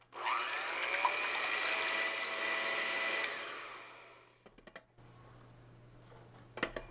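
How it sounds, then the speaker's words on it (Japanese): Egg whites and sugar are beaten into meringue for a banana chiffon cake, a steady whirring whisk running for about three seconds before fading, followed by a few faint clatters and knocks. "はじめ洗剤の泡ぐらい、ちょっと粗い泡が立つまで卵白のコシを切ってから、砂糖は一度に加えて泡立てていきます"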